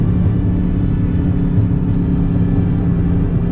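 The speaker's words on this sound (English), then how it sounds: "They're very proud of the noises these things make, and this makes awesome noises, as it should, as is a hallmark of any Aston Martin vehicle." An Aston Martin DBX exhaust rumbles deep and loud, a dense, steady growl held close throughout the short stretch.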